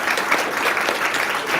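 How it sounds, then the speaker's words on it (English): Audience applause at a Cloud NEXT 2025 Extended tech event, a brief, steady patter of many hands clapping at moderate loudness with no voices over it. "let's give a round of applause"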